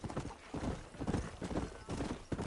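A horse gallops in Red Dead Redemption, its hooves pounding in a fast repeated rhythm, close and steady, with faint voices underneath.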